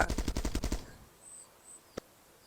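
Rapid automatic gunfire in the Build Master video game rattles off in a tight burst of about eight shots, then cuts to near silence broken by a single sharp report.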